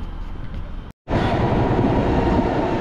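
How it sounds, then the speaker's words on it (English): A train runs past in Cape Town, a loud, steady broadband rumble that cuts out briefly for a moment, then resumes stronger and continues smoothly to the end. "That's the train."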